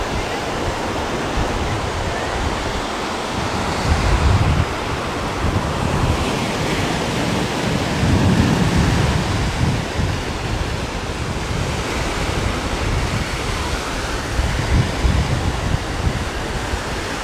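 Strong wind buffets the microphone on Kumköy beach in Side, Turkey, over a constant roar of surf, gusting louder in places, with no pauses throughout.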